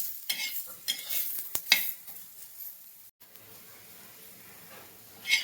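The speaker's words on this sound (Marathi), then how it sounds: "हा बघा, कांदा जरा भाजून घ्यायचा आहे आपल्याला." Onion roasting in a pan for a spice paste, with soft sizzling under scraping stirs of a spatula, a sharp clink midway, a brief drop to near silence, then a final louder scrape.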